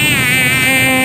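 Mosquitoes whine on a rooftop at night, a loud, close, steady high-pitched buzz that hums right by the ear for about a second, with no voices.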